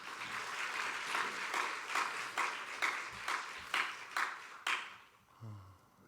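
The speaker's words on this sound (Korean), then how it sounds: "여러분 환영의 박수 먼저 한번 하겠습니다" Welcoming applause from a church congregation greeting a visiting pastor, steady many-handed clapping that swells in waves and then trails off.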